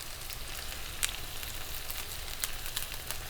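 Half an onion and green chilies sizzle in hot oil for beef with plantain, a soft steady frying hiss with a few faint crackles, close and without talk.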